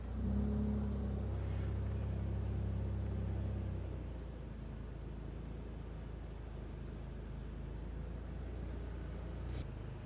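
A car engine rumbling and revving close by as it tows a U-Haul out of sand. The load is heavy and low for the first four seconds, then drops to a steadier, quieter idle-like drone.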